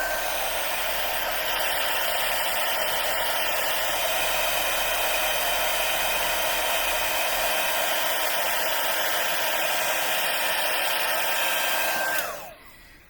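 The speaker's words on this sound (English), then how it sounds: "I'm going to hit it again with the heat tool" A heat embossing tool blows steadily and loudly to melt embossing powder for a stamped card, a continuous hot-air whoosh lasting about twelve seconds before it switches off and winds down.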